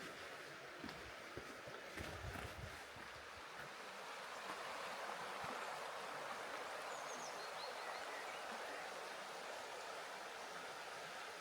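A small river flows steadily near Eltz Castle in a German forest, a continuous broadband rush of water at close range with a brief louder splash or rustle early on, otherwise even and unbroken.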